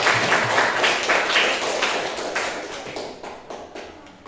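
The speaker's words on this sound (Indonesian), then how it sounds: "Tepuk tangan untuk kelompok" Students in a classroom clap for group 2, a burst of many hands applauding that starts strong and gradually thins and fades over four seconds.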